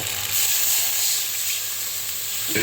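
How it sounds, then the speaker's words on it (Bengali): Water hits a hot pan of paneer masala, letting out a loud, steady hiss and sizzle that holds at full strength for nearly three seconds, close and alone with no talking. "অল্প একটু জল দেব"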